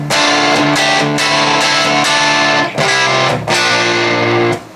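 Electric guitar heavily distorted through an MXR Distortion Plus clone pedal, hammering out buzzy, saturated chords with brief pauses between phrases, loud and close.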